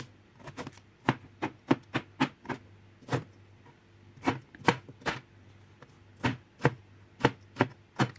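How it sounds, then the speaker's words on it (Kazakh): Carrots and potatoes are diced into cubes on a board, sharp knife chops landing close and distinct in irregular bursts of two or three, with quiet gaps between. "сәбіз және картопты кубиктеп тураймыз."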